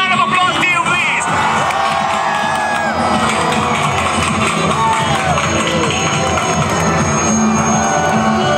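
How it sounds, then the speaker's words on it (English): Loud outdoor crowd at a Chennai air show on Marina beach, cheering, whooping and clapping continuously, with a dense babble of voices and scattered shouts throughout. "Big round of applause to you, please."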